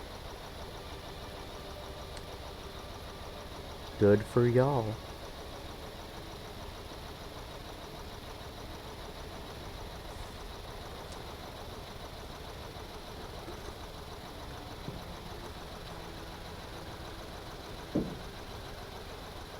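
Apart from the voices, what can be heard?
vehicle engine idling in a video game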